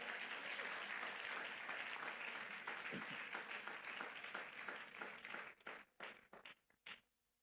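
A church congregation applauds together, a full sustained wave of clapping that thins out toward the end into a few separate claps before stopping.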